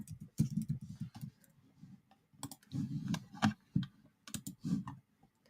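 Typing on a computer keyboard in a quiet room, bursts of close, rapid key clicks in several runs with short pauses between them.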